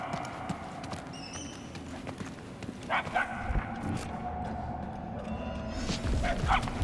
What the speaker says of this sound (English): What's that? Canine barking.